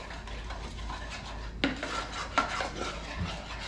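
Caesar salad dressing is whisked in a bowl at the table: faint soft scraping and swishing, with a couple of sharp clinks of a utensil striking the bowl.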